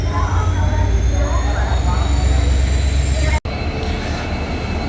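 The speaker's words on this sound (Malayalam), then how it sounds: "train is coming" A train approaching a Kerala station platform, a loud continuous low rumble with a whining engine tone and steady rolling noise, heard close under background chatter of people on the platform.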